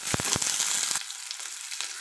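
Small shallots and curry leaves dropped into hot oil for sambar, a bright crackling sizzle with a few sharp pops early on, then settling into a softer, quieter fry.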